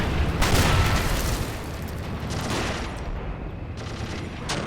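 A Panzer V tank fires in the video game Assault Squad 2 amid dense battle noise, with heavy booms and rolling gunfire layered into a continuous loud rumble. No voices are heard.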